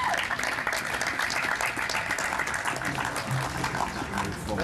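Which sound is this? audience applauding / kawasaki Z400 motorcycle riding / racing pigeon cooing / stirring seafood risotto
audience applauding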